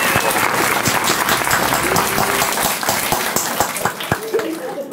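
Applause for folk club performers, heard as a loud, dense patter of many hands that continues steadily and then breaks into fewer, sharper individual claps as it dies away near the end.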